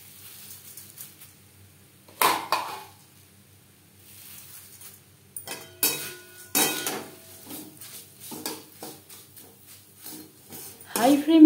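Flattened rice (chire) fries in oil over a low flame while a spatula stirs it, making sharp metallic scrapes and clanks against the pan in irregular bursts with quiet gaps between.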